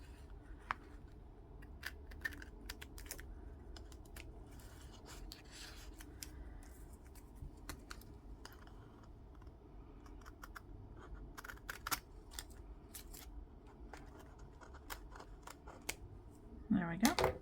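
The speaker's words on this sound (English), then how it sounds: "I'll cut off the ends with scissors." Quiet, repeated snips and rustling of scissors cutting paper, irregular crisp clicks spread over the whole stretch with a faint low hum underneath.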